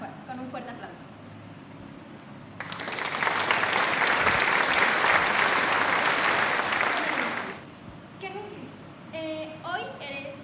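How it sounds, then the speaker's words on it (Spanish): A burst of audience applause rises for about five seconds to welcome a guest at a school chemistry presentation about the periodic table, framed by quieter room sound and brief talk before and after. "Recibámoslo con un fuerte aplauso."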